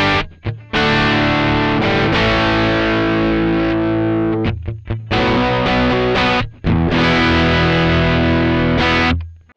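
PRS SE Standard 24 electric guitar through a distortion pedal with a thick, Mesa-like metal tone, loud chugging chords with brief stops and restarts, no voices.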